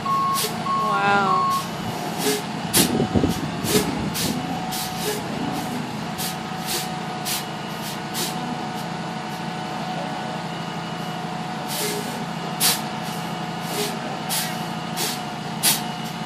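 Heavy truck of about 6,000 pounds easing down a steep residential driveway, its engine rumbling under a long run of evenly spaced reversing beeps, with an air brake hiss early on and voices briefly heard.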